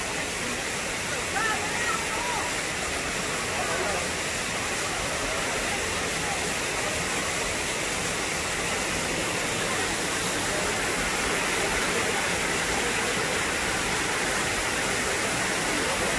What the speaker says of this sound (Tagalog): Yun yung Lion Falls.